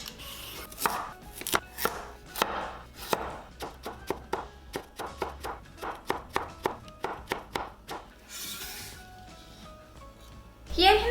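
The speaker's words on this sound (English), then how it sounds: "julienne the cucumber, and julienne the carrot" A knife julienning cucumber and carrot strikes a cutting board in quick, crisp chops, close and distinct, in bursts with brief pauses between runs.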